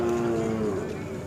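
Khillar bulls at a cattle market in Sangola: one loud, close, drawn-out low moo lasting just over a second, with market noise faint in the background.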